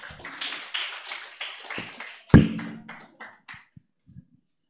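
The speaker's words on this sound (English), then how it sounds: "Please, let's continue clapping for her." Scattered audience clapping for the MC at an event, a loose patter of hands with one sharp louder clap, thinning out to a few isolated claps before fading to silence.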